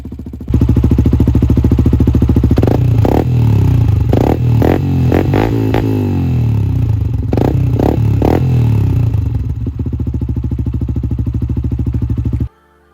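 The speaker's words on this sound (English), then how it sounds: "So we've got a lovely air exhaust. Let's give this one here a cheeky little listen." A Yamaha WRX125 supermoto with an aftermarket exhaust idles with a steady, loud single-cylinder thrum, broken by a series of sharp throttle blips and revs before the engine is cut off abruptly.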